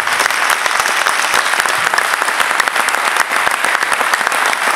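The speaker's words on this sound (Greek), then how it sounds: "θέλω να τα χειροκροτήσετε, γιατί τους αξίζει." An audience at a philharmonic band concert claps loudly and vigorously for the band's children, a thick, continuous burst of applause right up close.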